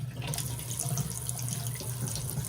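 Water running steadily from a WorbWay matte black two-handle 8-inch widespread bathroom faucet into a sink, a continuous close rushing stream that stays even throughout with no voices.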